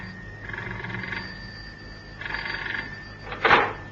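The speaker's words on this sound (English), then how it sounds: "Cannon had hardly put the phone down in the house in Sloane Street when it rang" A telephone rings in an old-time radio drama, two warbling ring bursts separated by a pause, followed by a short louder clunk like a receiver being lifted.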